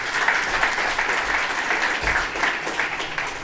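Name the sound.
audience applause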